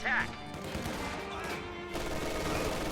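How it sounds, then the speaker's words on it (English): Machine guns keep up sustained fire during a strategy game battle, a dense steady stream of rapid shots running the whole time with battlefield clutter behind it. "these machine guns will just continue to reinforce and deal damage to riflemen in buildings"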